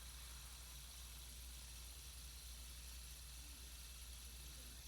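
A CKF Pepyakka 3.0 high-end fidget spinner spins with a faint, steady whirring hum that holds at an even level throughout, with no voices.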